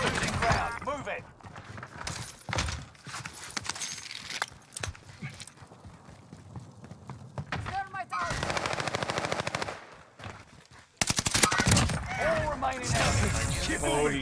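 Warzone video-game gunfire comes in sharp rapid bursts and single shots, loud and near, with quieter stretches between. People talk over the shooting.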